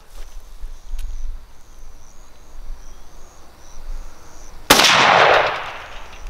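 A single rifle shot fired outdoors at a propane tank bangs sharply and loudly, then rolls off in a long echo. Crickets chirp faintly in the quiet before it.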